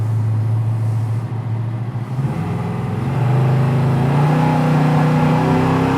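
A 1964 Ford Galaxie 500 accelerating, heard from inside the car: a loud, steady engine drone that rises in pitch as it picks up speed, with a brief shift dip midway.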